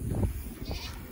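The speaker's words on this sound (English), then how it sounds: "all the goats are out here waiting for me like always" A short bleat from a goat, close by, with some low rustling noise around it.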